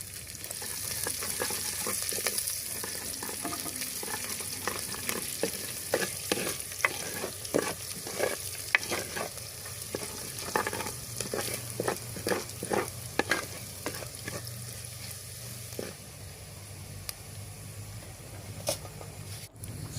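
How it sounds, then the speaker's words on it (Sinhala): Dried chilies, rampe and curry leaves sizzle in hot oil for a Sri Lankan jackfruit curry, with a steady frying hiss and frequent scraping, clattering strokes of a stirring spoon in the pan. "ලුණු ටික සාමාන්‍ය ගානට බෙදෙනකොට වගේ වෙලිච්ච මිරිස් කරල් රම්පේ කරපිංචා දාලා කලවම් කරගන්න"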